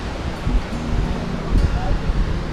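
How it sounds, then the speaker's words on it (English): Steady wind gusts buffet the microphone at the Point Arena Lighthouse on the coast, a loud, rumbling rush with faint surf behind it. "It's breezy."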